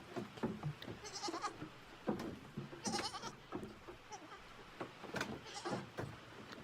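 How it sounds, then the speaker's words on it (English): A goat bleats in a quiet, unsettling video game scene: several short, wavering bleats of moderate loudness come at irregular intervals over a faint background. "There's a goat."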